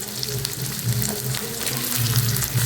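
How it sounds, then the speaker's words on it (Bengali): Cubed potatoes fry in hot white oil, a close, loud and continuous crackling sizzle with no pauses. "এবার তেলটা গরম হয়ে গেছে, এখানে আমি দিয়ে দিচ্ছি কেটে রাখা আলুগুলো"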